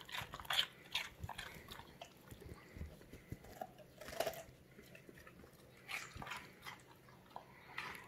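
A Weimaraner dog eats raw potatoes in a country setting, with close, irregular crunching and biting sounds repeating over several seconds at moderate volume and no talking.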